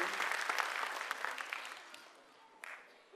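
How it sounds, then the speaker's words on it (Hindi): An audience applauds small children at a pre-primary school annual function: dense, lively clapping that gradually thins and fades, with a brief swell of claps near the end. "हमारे छोटे छोटे बच्चों के लिए एक बार ताली तो बजनी ही चाहिए।"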